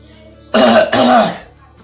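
A person coughs and clears the throat in two loud, close bursts back to back, ending quickly with a quiet room before and after.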